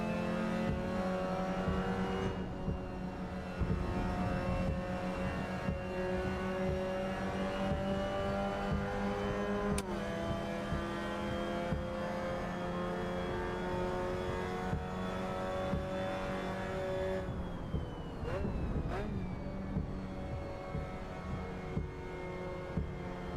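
A race car engine in the Assetto Corsa racing game drones loudly and steadily at high revs, dipping and recovering as the car brakes hard into a corner and then accelerates away, with no voices over it.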